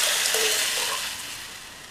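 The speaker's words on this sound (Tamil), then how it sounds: "இந்த வெங்காயம் நல்லா வதங்கட்டும்." Onions sauté in a hot pan for vendakkai kara kuzhambu, a soft steady sizzle with faint scraping of a spoon, fading slightly over a couple of seconds.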